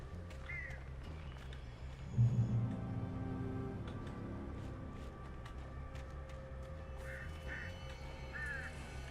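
Duck-like quacks sound in short bursts over a low ambient drone in the video game Alan Wake, a few calls near the start and a cluster near the end, fairly faint and distant.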